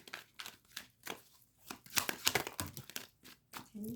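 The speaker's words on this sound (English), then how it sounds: "I know you guys just seen me shuffle." Tarot cards are shuffled by hand, with a quiet, close run of irregular papery riffles, flicks and crinkles and no talk.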